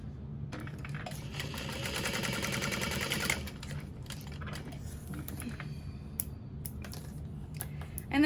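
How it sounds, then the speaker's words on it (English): A sewing machine stitches the side gusset pieces of a bag at a long stitch length, a dense steady run of rapid needle strokes for a few seconds, then stopping and restarting in shorter bursts amid handling noise. "I'm gonna sew up the side gusset pieces"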